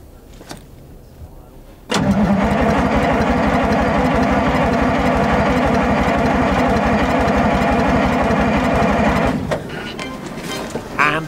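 Huge 6x6 hearse engine catching with a sharp burst after a quiet stretch, then running as a loud, steady, rumbling idle for about seven seconds before easing off; voices are faintly present.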